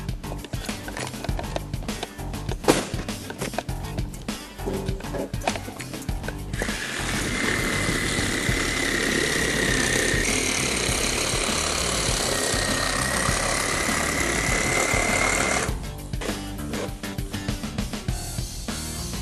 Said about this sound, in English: As you can see, the reciprocating saw works extremely well.